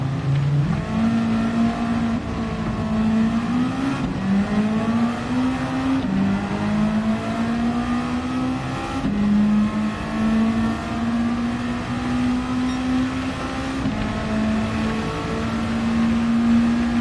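A rotary-swapped Mazda MX-5 Miata races in Gran Turismo 7 on slicks in the rain, its engine droning loud and steady, the pitch climbing through gears and dropping at shifts over about seventeen seconds.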